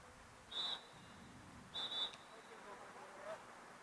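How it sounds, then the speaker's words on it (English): Two sharp referee whistle blasts ring out at a women's lacrosse game, with a third faint chirp near the end over low outdoor ambience. "We get a whistle here."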